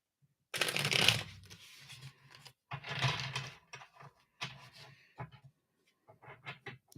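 Tarot cards are shuffled in several quick riffling bursts with short pauses between, close by and crisp, then a few lighter taps and shuffles.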